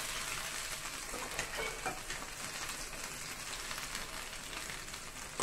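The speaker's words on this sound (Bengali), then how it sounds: "সেই বেরেস্তাটা এবার আমি দিয়ে দেবো।" Fried onions (beresta) land in a hot pan of oil for Kerala-style egg curry, giving a steady, close hiss of frying with a few brighter crackles and no pauses.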